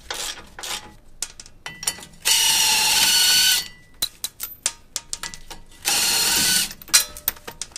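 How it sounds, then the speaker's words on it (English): A long ratcheting breaker bar fitted with a 19 mm deep socket loosens bolts on a Toyota Tacoma, giving rapid close clicking bursts of ratchet pawl with two sustained louder stretches of continuous ratcheting between sparser clicks. "If you have one of these long breaker bars that ratchets,"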